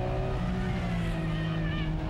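Nissan Skyline R34 GT-R V-Spec drifting on a mountain pass road, engine loud and close with a sustained, wavering high rev note and tire noise throughout.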